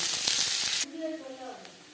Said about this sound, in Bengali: সবার প্রথমে আমি পেঁয়াজ ভেজে নেব